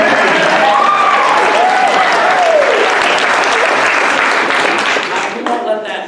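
Sustained audience applause at a choir recital fills the clip, loud and steady, with faint voices and whoops heard through it before it thins near the end.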